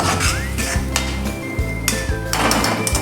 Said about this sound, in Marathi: आता हे छान असे मसाले आपले परतून घेऊयात आपण व्यवस्थित